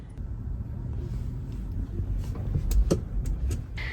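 Car driving along a road, heard from inside the cabin: a quiet, steady low road rumble and tire noise with a few faint clicks and rattles near the end.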